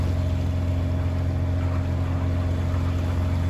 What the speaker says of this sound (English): At the minute we're motoring.